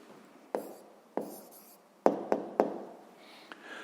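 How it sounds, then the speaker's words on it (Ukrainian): A pen writes the answer to a sixth-grade maths exercise in a notebook, with sharp taps and short strokes against quiet room tone at irregular intervals and no speech. "Ну що ж, записуємо тоді відповідь."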